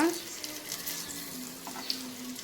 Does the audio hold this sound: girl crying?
no